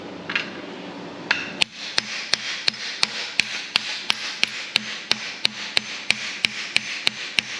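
Steady hammer blows strike a socket used as a drift to drive the center out of a John Deere BN tractor's fan shaft, about sixteen sharp metallic hits in an even rhythm, close and loud, with no talking.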